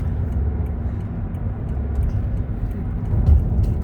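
Steady low road rumble of a car cruising on a freeway on a holiday drive home, engine and tire noise droning continuously with no break and no talk.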